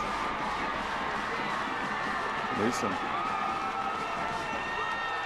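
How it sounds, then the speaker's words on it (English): A football stadium crowd erupts in a broad, continuous roar of cheering after a touchdown in a high school game between Effingham County and Statesboro, heard at a distance beneath a commentator's voice. "The crowd goes nuts."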